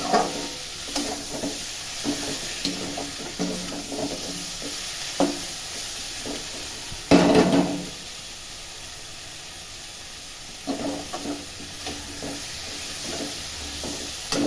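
Onions frying in a pan for a home-cooked dish: a steady, soft sizzle runs throughout, with scattered stirring scrapes and clinks and a louder burst of sizzle partway through, with no talking.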